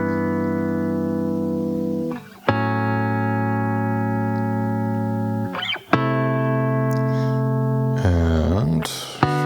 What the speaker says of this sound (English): now we're hearing all 4 chords as they were originally recorded